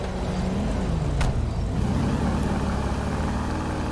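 A stolen car drives in GTA V roleplay, a steady engine hum with a low, shifting tone that runs throughout, moderately loud and without talk.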